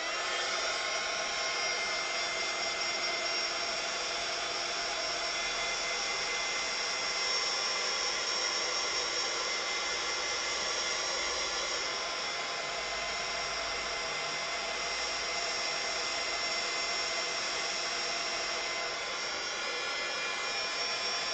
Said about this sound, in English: it might need a little bit of hitting with the heat tool